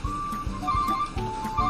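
A bus reversing in Bus Simulator Indonesia gives off a steady, repeating electronic beep, evenly paced and loud, over a constant low engine hum.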